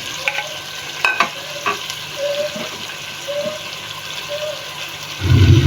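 Chopped onion frying with browned chicken for a chicken karela dish gives a steady sizzle, marked by a few sharp clatters of stirring near the start and a louder burst as more is added at the end.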